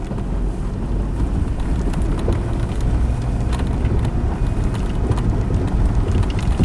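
A Dodge Neon running in limp-home mode with an open 2-4 pressure switch, its transmission straining to shift out of low gear: a loud, steady engine drone with rough rumble throughout and no distinct shift event.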